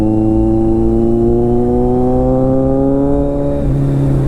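A Kawasaki Z900 with its stock exhaust hums steadily while being ridden, a loud, smooth engine drone that rises gently in pitch and then drops as the throttle eases.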